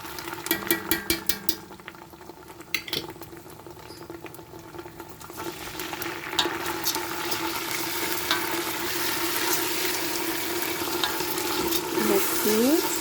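Lentils and rice fry with browned onion in a pot, giving a steady close sizzle and bubbling patter that grows denser, with scattered stirring clatters at the start.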